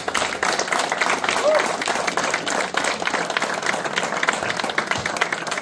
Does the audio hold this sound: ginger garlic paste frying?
no